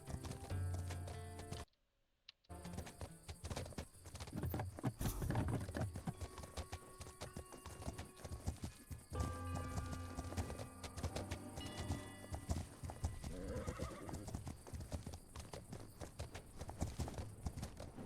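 Hooves of wild horses clip-clopping in a video game, a steady rhythmic trot under game music and ambience, with a brief dropout near the start.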